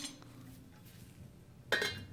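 A metal lid clanks down onto a cooking pot of browned lamb and water, one sharp clink near the end after quiet kitchen background.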